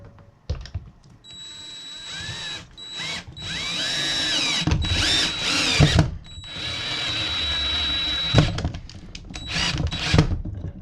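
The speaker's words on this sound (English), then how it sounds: "We're going to end up using this hole, so we're just going to put a screw in." A power drill drives a screw into an IKEA LACK shelf bracket in several close, whining bursts with short pauses, the motor pitch rising and falling as it runs.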